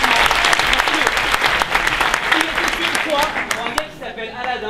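A crowd claps loudly and densely in a sustained burst of applause that thins out near the end, with voices mixed in underneath.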